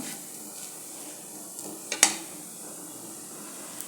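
Poha thalipeeth roasts on a pan, a soft continuous sizzle with light scraping and one sharp utensil clink partway through.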